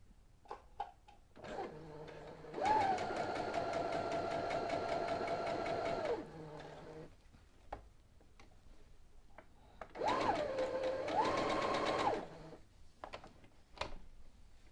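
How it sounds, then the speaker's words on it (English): A Brother CS-6000i computerized sewing machine stitches in two bursts run by foot control, a steady near whirring buzz lasting several seconds each, separated by quiet pauses with small clicks. "So I'm going to start stitching. I'm going to use the foot control to do my stitching."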